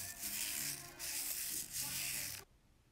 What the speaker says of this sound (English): I personally like to add a little scrubbing by taking one of my old toothbrushes and going over the surface of it